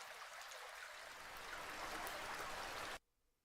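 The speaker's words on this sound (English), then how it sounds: "There's like a slightly heavier water sound." Heavy flowing water from a stream in the Minecraft SMP video game, a steady loud rush that holds evenly, then cuts off abruptly near the end.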